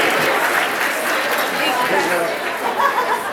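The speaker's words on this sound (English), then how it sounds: "So another round of applause." A crowd at an evening event gives another round of applause, a loud, thick wash of clapping mixed with murmured voices throughout.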